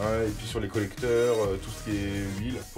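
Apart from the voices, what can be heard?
No everyday noise stands out behind the speech.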